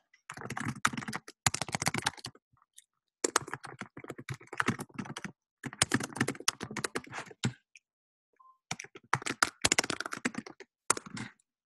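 C++ code being typed on a computer keyboard, close, quick clattering bursts of keystrokes separated by short silent pauses, with no voices.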